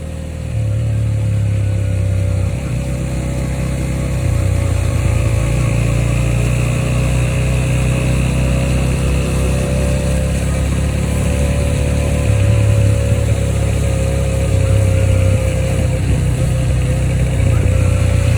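A Bajaj Pulsar N160 motorcycle engine runs steadily and loudly, its low exhaust rumble rising and dipping in slight revs throughout, with no voices over it.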